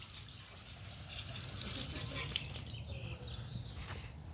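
Water sprays and a brush scrubs while a motorcycle is washed, a faint, steady hissing and swishing with light splashes, heard alone at a low level.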